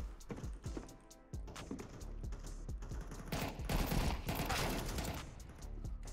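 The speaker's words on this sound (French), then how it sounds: "Je pense que le CZ là, c'est une mitraillette" Rapid bursts of CZ machine pistol fire in Counter-Strike 2, a dense volley of sharp shots building into sustained automatic firing, loud and close amid other game effects.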